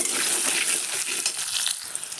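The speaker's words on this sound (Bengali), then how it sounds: "কুমড়োটা দিয়েও কিছুক্ষণ ভেজে নেব" Diced potato and pumpkin frying together in a pan give off a steady, dense, close sizzling hiss that continues unbroken and with no voices.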